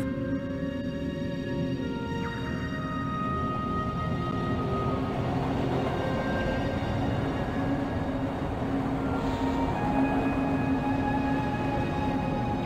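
Continuous loud rumble of a train passing through a tunnel in the Broken Sword II point-and-click game, with sustained metallic tonal hum and steady rolling noise throughout, no voices.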